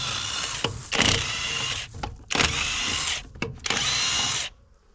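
A SeeSii impact wrench with a 13/16 socket cracks a lug nut loose on a trailer tire, three loud rattling bursts of hammering whir separated by short pauses, close up and with no talking.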